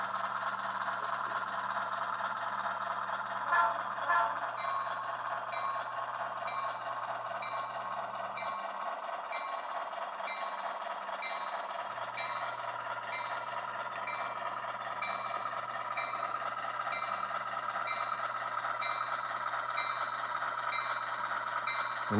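A model train runs steadily along a layout on a manufacturer's railroad, a continuous mechanical whir and hum with a repeating bell-like tone, fairly even and close, with no talking.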